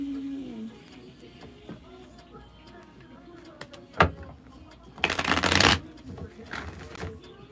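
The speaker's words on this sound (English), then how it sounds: "Let me start shuffling." A deck of playing cards is shuffled close to the microphone, with a sharp riffle and bridge burst followed by softer card handling over low background noise.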